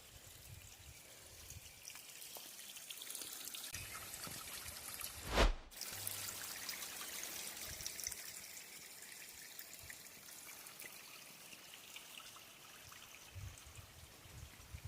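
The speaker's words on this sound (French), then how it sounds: "Et l'eau va jusqu'à la rivière." Water trickles and flows steadily in a forest near old village ruins, a soft continuous stream running toward a river, with a brief louder splash or knock partway through.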